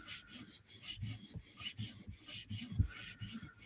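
Light, quick strokes of a knife across a whetstone to remove the burr make a soft rhythmic rasp, close and quiet, with each pass clearly separated by a short gap.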